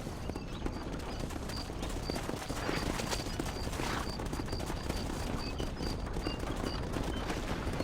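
Horses gallop in the Red Dead Redemption video game, with a continuous loud clatter of hooves. Several riders move together over a constant rumbling bed of noise, and a faint neigh comes through.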